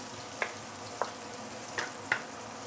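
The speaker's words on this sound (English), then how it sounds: "we are trying to brown the shallot a little bit before we continue" Shallots browning in a pan for fried rice vermicelli, a soft, low hiss of frying punctuated by a few small pops and clicks, quiet and close.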